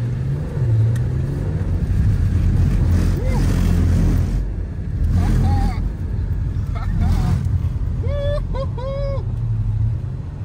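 Audi TT 3.2 VR6 with a stage 1 tune, drifting on a closed road: a steady, loud engine roar with bursts of high tire squeal near the end, while voices talk over it.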